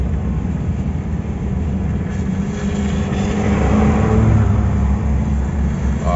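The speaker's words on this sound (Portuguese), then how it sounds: "Vou deixar que tá vindo uns carros ali pra eles passarem" Cars passing on a dirt farm road in Goiás, Brazil, a steady low engine rumble that swells as vehicles draw near, heard from inside a running vehicle with no talk.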